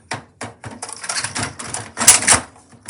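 Plastic panels and trays of an HP LaserJet Pro 3001dw printer clack and snap shut after a paper jam is cleared, a series of sharp nearby clicks and knocks in irregular rhythm, with no talking.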